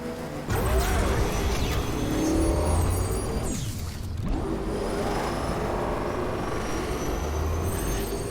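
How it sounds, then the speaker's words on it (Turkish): A motorbike engine hums steadily while riding in the video game Death Stranding, with a rising, sweeping whine and a brief dip midway, close and continuous with no speech. "Motor sürüyorum"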